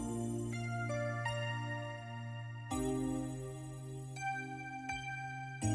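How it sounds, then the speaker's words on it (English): Soft keyboard notes sit in the background of a freshly made song, over a steady sustained low bed. Separate key strikes land every second or so, gentle and quiet in a low-level mix, with no voices. "some little keys that are playing in the background"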